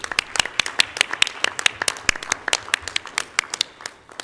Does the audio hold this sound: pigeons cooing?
no